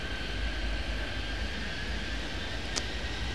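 A jet airliner comes in to land in an airport traffic-control game, a steady broad engine roar with a faint high whine, held at an even level throughout without voices.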